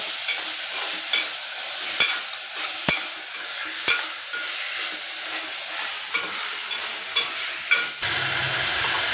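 Mutton frying and being stirred in a pan with ginger, onion and tomato, a steady loud sizzle broken by about a dozen sharp scraping knocks of the spoon against the pan, no voices.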